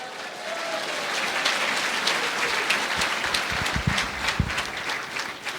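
A church congregation in Sucre, Bolivia applauds together, a dense, steady wash of many hands clapping at moderate distance, with a few louder thumps near the end.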